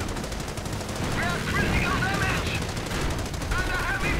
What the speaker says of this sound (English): Even the 30 caliber is in vain trying to fire into it.